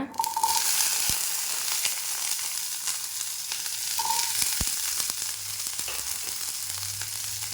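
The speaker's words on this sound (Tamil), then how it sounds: "இப்போ நம்ம வெங்காயம் ஒரு கைப்பிடி, 1/2 கைப்பிடியே இருக்குங்க" A pan sizzles steadily as onions sauté for mint chutney, a continuous close frying hiss with a few soft clicks and knocks of a utensil and no talking.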